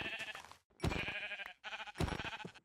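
Repeated bleating of sheep in Minecraft, several blocky calls in quick succession with short pauses between them, close and clear with no talking.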